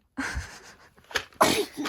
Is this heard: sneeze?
yes